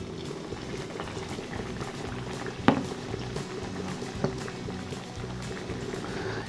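Chicken pieces dropped into hot oil for yuringi, a dense, even bubbling and frothing close by, with a brief clatter partway through and no talking.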